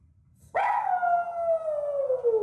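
A distressed dog howls alone at home after its owners leave, one long sustained wail that starts abruptly and slowly falls in pitch, loud and close.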